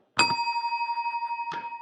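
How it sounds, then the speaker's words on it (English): A single bell ding at a city commission candidate forum, used as a timekeeping signal, rings out clearly, with a steady sustained tone ringing on and a second softer strike near the end. "We will keep time and we will ding a bell when your time is up."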